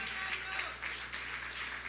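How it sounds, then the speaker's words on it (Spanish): A church congregation claps in praise during a Spanish-language worship service, a steady wash of many hands applauding together without a break. "Le damos palmas de alabanza, amados hermanos."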